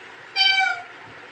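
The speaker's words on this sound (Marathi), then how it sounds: "अयो मांजरीचा आवाज आला तुला?" A single short cat meow, clear and fairly close, rising and falling in under half a second against a quiet background.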